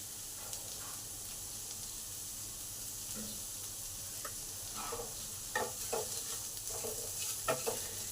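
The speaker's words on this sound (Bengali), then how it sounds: "পেঁয়াজগুলোকে হালকা লাল ভাজা হবে" Onions with green chilies and salt fry in a pan for upma, giving a steady soft sizzle, joined midway by a run of spatula stirring scrapes and taps, close and fairly quiet.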